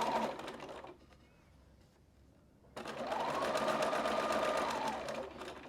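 A sewing machine runs a short burst of top stitching on a So Sweetness bag, stops, then starts again for a steady, faster run of close, continuous whirring stitches.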